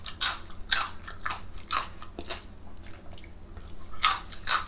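Someone chews raw beef close to the mic, with wet bites and squishy chewing that comes in irregular bursts and pauses, with no talking.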